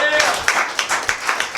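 Scattered clapping breaks out in a small pub audience at a stand-up comedy set, a few distinct sharp claps spaced out over a short moment with talking running alongside.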